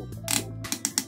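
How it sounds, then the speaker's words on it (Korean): Ratchet joint on a robot toy arm clicking as it is rotated, a few sharp, close mechanical clicks in quick succession at moderate loudness with no talking. "깔끔하게 역시 라쳇 관절로 회전이 됩니다"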